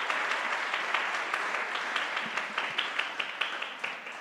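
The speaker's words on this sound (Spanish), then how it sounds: "dale un aplauso al Señor" A church congregation applauds for the Lord, a dense sustained crowd clapping with steady individual claps standing out, moderately loud and without speech.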